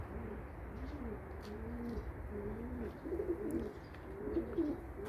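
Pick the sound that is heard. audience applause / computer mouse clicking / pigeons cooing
pigeons cooing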